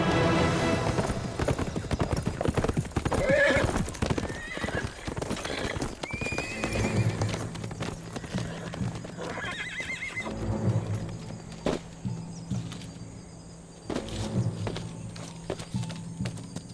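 Horse hooves clip-clop steadily while a horse neighs and whinnies several times, with a dramatic score underneath in a historical drama scene; one of the horse's shoes has come off.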